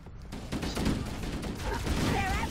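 Rapid gunfire from an assault rifle in Halo crackles in dense bursts, with a player's voice over the shooting.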